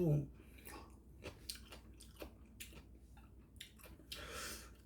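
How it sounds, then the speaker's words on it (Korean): Close crunching of crisp cucumber chewed along with cold spicy Nongshim Bae Hong Dong jjolmyeon noodles, soft rhythmic wet bites and squishes at a slow pace, with breathing and a few quiet vocal sounds. "오이는 아삭아삭하고"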